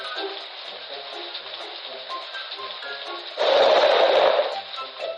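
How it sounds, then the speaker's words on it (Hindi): Steady rain hisses throughout a thunderstorm, swelling into a louder, heavier burst of downpour with a low rumble of thunder near the end. "बिजली की कड़कड़ाहट के साथ बारिश भी शुरू हो गई।"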